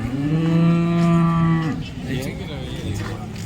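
A cow at a cattle market in Modnimb gives one long, loud, close moo that falls off after about two seconds, followed by faint market background.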